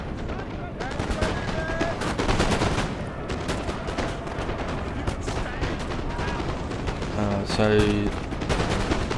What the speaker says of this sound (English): Quite a lot of concentration fire on this particular unit.